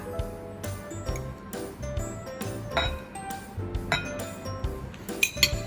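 A utensil scrapes and clinks against a bowl in irregular stirring strokes, mixing chicken into a sauce, with bright metallic taps now and then, close by and without talk.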